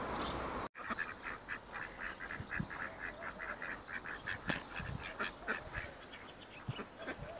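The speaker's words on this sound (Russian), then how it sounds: "Хорошие уточки." A family of ducks quacks and honks in repeated short calls outdoors by drying water, fairly faint and steady throughout, with a brief dropout near the start.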